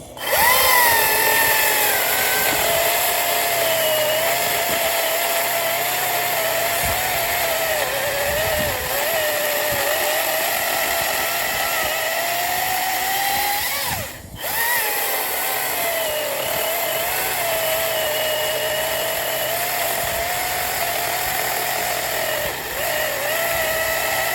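Chainsaw running 3/8 picco chain as it cuts through locust wood, a loud sustained buzzing drone whose pitch wavers under load, with a brief dip partway through before the cut continues.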